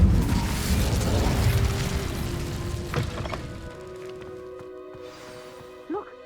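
An Incendio fire spell cast in Hogwarts Legacy: a loud, roaring burst of flame that starts at full force and fades over several seconds into a quieter magical hum, with a small pop near the end.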